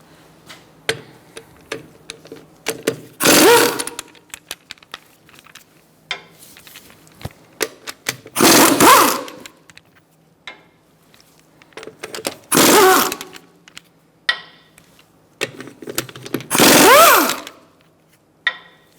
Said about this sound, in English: Using a 17mm socket, we're going to remove our wheel fasteners